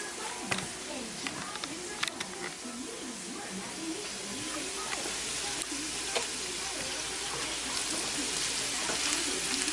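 Eggs fry in a pan in a home kitchen with a steady close sizzle and hiss, with small pops scattered through it and faint voices underneath.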